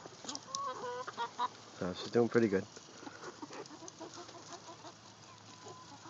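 Chickens cluck and squawk close by near a young bird dog on a farm, several bursts of clucking in the middle, with someone speaking briefly over them.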